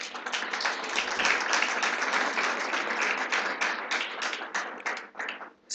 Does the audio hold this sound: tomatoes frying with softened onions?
no